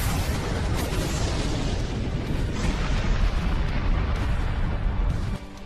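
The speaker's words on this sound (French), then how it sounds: "L'explosion qui s'ensuivit fut gigantesque, générant une onde de choc qui balaya tout sur son passage." Animated explosion with a sweeping shock wave: a dense, loud roaring blast rumbles continuously for about five seconds before dropping off abruptly.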